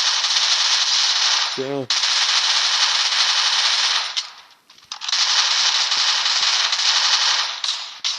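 Rapid automatic gunfire from the video game Free Fire Max rattles almost continuously, with a short break near the middle before the bursts resume, while someone speaks briefly over it.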